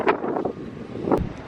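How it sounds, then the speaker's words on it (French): Strong gusts buffet the microphone on the Sunshine Coast of eastern Australia near a lighthouse and water tower, loud rumbling bursts in two surges with no talking. "oh il y a du vent"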